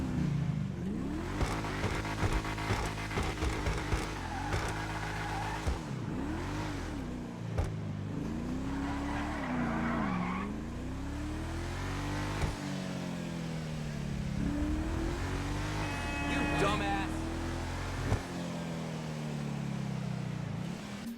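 A GTA Online armored car from the Contract update revs its engine in game, with repeated rising and falling throttle sweeps and a steady loud drone throughout, a voice talking over parts of it.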